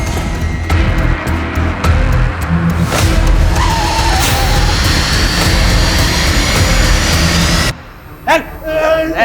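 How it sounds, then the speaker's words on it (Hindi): A car drives off in a tense police crime scene, a loud, continuous engine roar with tire noise and rushing sound that cuts off abruptly, followed by a few quieter sounds. "तू खन्ना की गाड़ी लेके पीछे आ"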